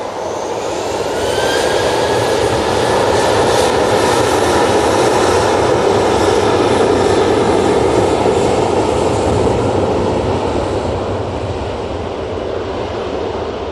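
A Ryanair jet airliner departs Manchester Airport for Bratislava, its engines building into a loud, sustained roar with a high whine that swells and holds for the whole stretch.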